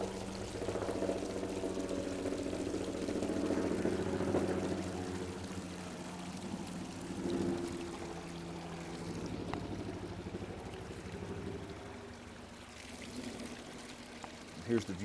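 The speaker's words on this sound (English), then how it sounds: "So that water from the top two pools is falling down several feet." Water from two upper garden pools falls several feet into a lower pond, making a steady, continuous rushing pour with a low droning hum beneath it.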